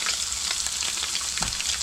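Butter frying in a pan on high heat while cooking catfish, giving a steady close sizzle and crackle with a few brief pops and stirring scrapes, with no talking.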